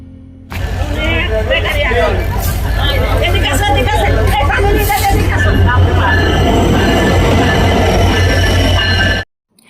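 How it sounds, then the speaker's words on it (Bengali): Busy station platform as a train pulls in, rumbling and squealing faintly under a steady crowd babble of many voices, fairly loud throughout before cutting off abruptly near the end. "দূর থেকে ট্রেনের হুইসেল শোনা যাচ্ছিল আর ধীরে ধীরে প্ল্যাটফর্মে ঢুকে যাচ্ছিল ট্রেন"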